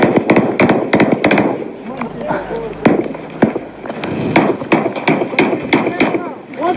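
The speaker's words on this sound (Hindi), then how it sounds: "देखिए अगर आप देखें तो आरपीजी फायर किया जा रहा है यहाँ से" RPG rocket fire during combat at Al Qaeda camps in Azra District, Afghanistan, heard as sharp repeated bangs and cracks of battle, with someone talking throughout.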